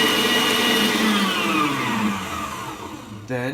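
An electric mixer beating Daim cookie dough whirs loudly and close, its pitch slowly sliding downward as it slows, then briefly surging again near the end.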